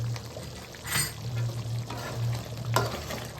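Fish curry with fenugreek-mustard powder being stirred in a simmering pot: soft scraping spoon strokes and gentle bubbling sizzle, with a couple of brief clinks against the vessel, fairly quiet and close.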